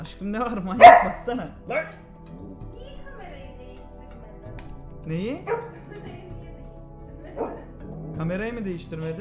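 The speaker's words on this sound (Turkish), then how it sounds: "Bu köpek de deli ya." A dog barks and yips a few times close by, with louder barks at the start and end, mixed in among two people chatting over it.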